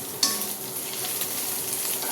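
Tempering with ginger-chilli paste frying in a pan for lemon masala rice, a steady close sizzle under a soft scrape of the spoon stirring, one clink near the start, no voices.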